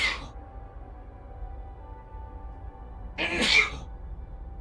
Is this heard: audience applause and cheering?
no